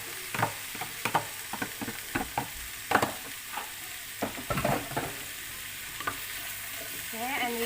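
Pork stirred in a sizzling frying pan, a run of distinct scraping and tapping strokes from the spatula over a constant fry hiss, close and fairly loud, with a brief squeak at the end and no speech.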